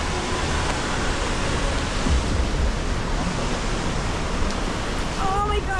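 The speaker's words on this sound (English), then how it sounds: "Oh my gosh, let's go to the waterfalls." A waterfall in Bali roars as a steady, broadband rush of falling water, loud and continuous from close by, with a brief voice near the end.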